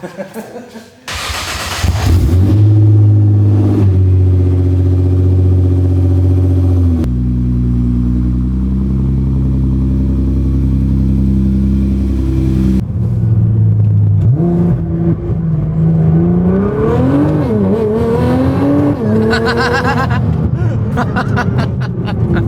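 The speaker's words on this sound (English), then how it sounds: "One of my favorite things about this car is just the sound of the blow-off valves." A turbocharged car starts and revs repeatedly, its engine note rising and falling loudly close by, with the hiss of blow-off valves between revs and some brief laughter mixed in.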